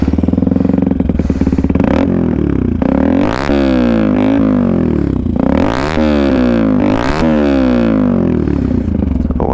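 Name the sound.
Benelli TNT 125 motorcycle with Pipeworks aftermarket exhaust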